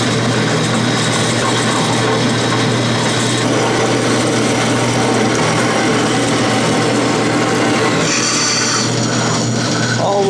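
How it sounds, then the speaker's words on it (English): A vertical bandsaw in a machine shop cuts through metal stock for a toolmaker's vise, giving a loud, steady whine and grinding drone that holds for the whole stretch, with a brief shift in pitch near the end. "I'm going to do the cutting in here on my vertical saw"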